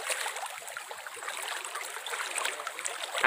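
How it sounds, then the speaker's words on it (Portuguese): Water runs steadily down a rocky river in the Brazilian sertão, a broad continuous rush and trickle heard close and alone, with no talk. "Água aqui à vontade, descendo aqui, rio abaixo."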